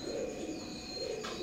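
Teddy 128 pigeons of an Oman bloodline coo softly at night, low throaty murmurs rising and falling in two close phrases, faint and alone.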